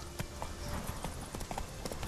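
Horse hooves clip-clopping at a steady trot while riding in The Witcher 3, faint and even against a constant background hum of game ambience.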